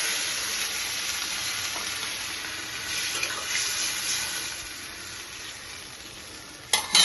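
Broth for ridge gourd water dumplings bubbles and simmers in a pot, a steady close hiss and soft bubbling that continues throughout, ending with a brief clatter.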